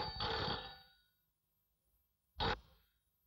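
A telephone rings in a film scene, two loud metallic bell bursts separated by a long quiet gap, the first ring trailing off slowly.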